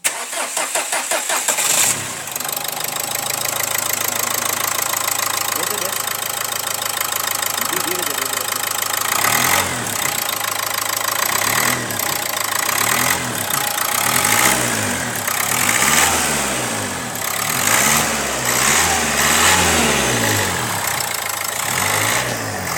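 Cold start of a Renault Duster 110 PS dCi diesel engine: the starter cranks, then the engine catches and settles into a steady, loud, close idle with a knocking diesel clatter that runs for about twenty seconds.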